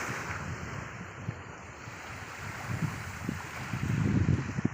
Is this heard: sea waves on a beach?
yes